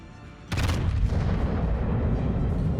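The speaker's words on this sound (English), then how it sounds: "But maybe the next salvo will get another fire." Naval artillery salvo in World of Warships, a single heavy boom that erupts suddenly and rolls into a long, loud, low rumble that sustains to the end.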